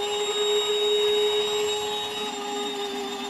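Ryobi 18V cordless wet/dry vacuum running steadily and sucking, a loud continuous motor whine with a strong sustained tone that holds level throughout, close by with no talking.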